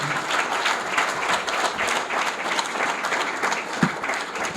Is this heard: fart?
no